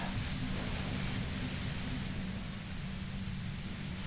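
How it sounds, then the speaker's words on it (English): Steady broadband hiss of white-noise static from the video game Disco Elysium, continuous and fairly loud throughout with no breaks, alone without talk. "You hear through the white noise. It's especially bad suddenly."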